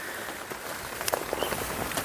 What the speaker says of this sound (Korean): 지금 장마인데 오늘 오전부터 비가 많이 내리는데